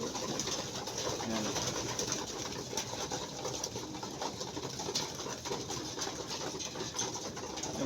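Soft cooing of a racing pigeon home from a two-day race, low and steady against a busy outdoor background with no talk.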